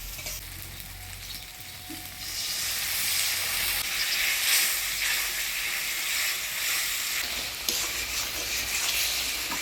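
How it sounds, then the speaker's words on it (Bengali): Spices with turmeric and salt fry in hot tempering oil while being stirred, a loud, dense sizzle that swells after the first two seconds and stays steady, with soft scraping beneath and no talking. "মশলা থেকে তেল ছেড়ে দিতে মশলাটা আমি ভালোভাবে কষিয়ে নিলাম"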